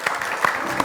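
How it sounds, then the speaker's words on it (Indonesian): A short burst of group clapping, fairly close and steady, with a few sharper claps standing out, amid playful banter in a comedy sketch. "tepuk tangan dulu"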